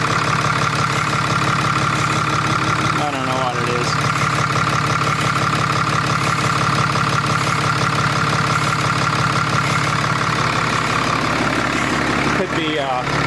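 A Ram truck with a Cummins 6.7 diesel, 2013–2018 generation, idles loudly and steadily at close range for the whole stretch, with a brief spoken remark partway through.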